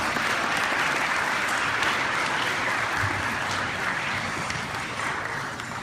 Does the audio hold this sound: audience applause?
yes